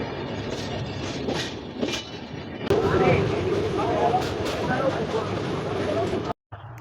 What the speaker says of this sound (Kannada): ಈ ಟ್ರೈನ್ ಎಲ್ಲಿಗೆ ಹೋಗತ್ತಪ್ಪ ಅಂದ್ರೆ ಇದು train Vasco D gamma to Hazrat ನಿಜಾಮುದ್ದೀನ್ಗೆ ಹೋಗತ್ರಿ